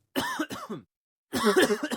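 Someone coughs in two bouts: a few short hacking coughs, a pause, then a longer, harsher burst of coughing, close and fairly loud, with no other sound.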